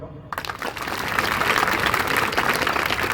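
An audience breaks into applause after a brief quiet moment at a sports coach's talk, dense clapping swelling quickly and holding loud and steady to the end.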